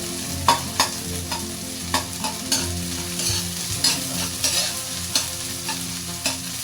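Onion sautéing in a pan for sweet and sour tilapia, a loud, steady sizzle close by, broken by repeated clacks and scrapes of stirring, with no voices.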